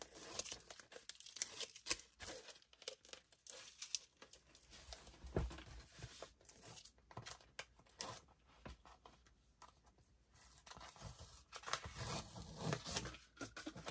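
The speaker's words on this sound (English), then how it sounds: "So you're just going to take your score tape off." Score tape backing being peeled off during a card box craft project, a faint, crackly tearing and crinkling of paper and plastic that runs in uneven bursts for several seconds up close.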